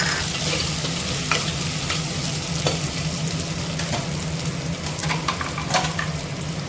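Onions and tomatoes stir-fry in a pan, a steady close sizzle broken by occasional spatula scrapes and light clinks against the metal.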